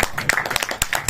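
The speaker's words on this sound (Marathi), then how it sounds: "सरांचं जोरदार टाळ्या वाजवायचे" An audience at a Marathi literary gathering claps for a writer, giving a brief burst of close, sharp, uneven hand claps.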